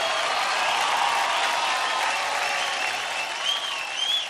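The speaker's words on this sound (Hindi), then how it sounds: "क्या बात है, जोरदार तालियां हो जाए" A studio audience at a dance competition applauds and cheers, a dense, even roar of clapping that holds steady throughout, with faint whistles rising near the end.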